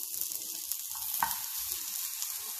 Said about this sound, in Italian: possiamo andare sui fornelli e grigliarle su una padella antiaderente